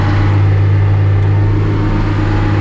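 A classic Oliver tractor engine hums at a steady, loud pace while pulling a 30-foot grain drill in fourth direct around 2,000 RPM, a constant low drone with no talk.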